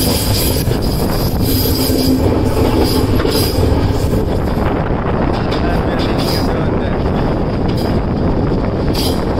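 A train rounding a curve on the line toward Bhuj in Kutch, heard from on board: a loud, continuous rumble with wheel squeal and clatter, plus wind buffeting the microphone throughout.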